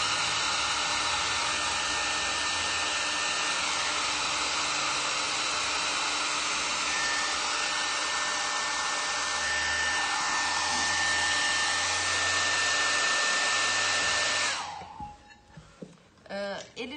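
Handheld hair dryer blowing on freshly painted decorative craft flowers, a loud steady close roar that holds for about fourteen seconds before switching off, followed by quiet handling noise.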